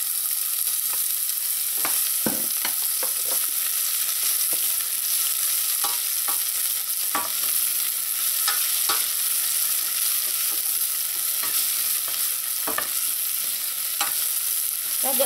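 Chopped onions and methi frying in hot oil, a steady sizzle with scattered stirring scrapes and clicks, close and alone with no talking.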